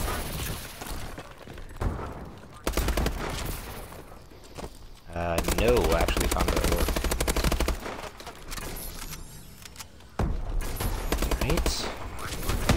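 Sniper and rapid gunfire in a video game, bursts of shots and a booming stretch in the middle, loud and close, with someone talking over parts of it.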